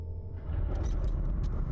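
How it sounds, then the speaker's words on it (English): Thunder rolls through a thunderstorm at a spooky old mansion in a video game, a deep continuous rumble that swells louder partway through and holds steady, with no voices. "Old spooky mansion during a thunderstorm."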